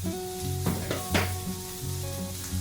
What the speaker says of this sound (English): once these get kind of sauteed and kind of get them clear